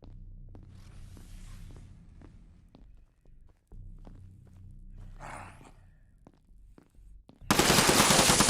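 Video game gunfire crackles in short bursts over a low rumble of game sound, building to a loud, dense stretch of rapid shots at the end.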